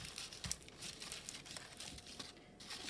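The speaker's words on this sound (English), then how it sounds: "I'm going to take a piece of tape and wrap that tape around the base" Tape being wrapped around the base of a paper tree, soft close crinkling and rustling of paper and tape with a few small tearing and crumpling bursts, quiet and unaccompanied by speech.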